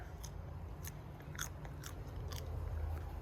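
Crunching bites of a raw garden plant that tastes like peanuts, several faint crisp crunches in an irregular rhythm over low background noise, close to the mouth.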